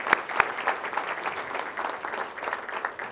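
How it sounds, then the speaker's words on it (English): An audience at a college sports Hall of Fame ceremony applauds, a moderate round of clapping with a few sharp, distinct claps standing out near the start before it settles into steady, slightly distant applause. "A posthumous round of applause for both of those gentlemen."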